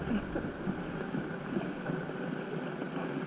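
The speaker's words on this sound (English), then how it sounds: "The wind is not helping today." Wind outdoors on a bus tour in Iceland, a steady broadband rushing and buffeting against the microphone, constant throughout the few seconds with no clear voices.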